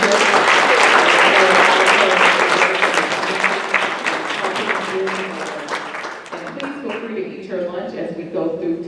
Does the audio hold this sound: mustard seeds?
no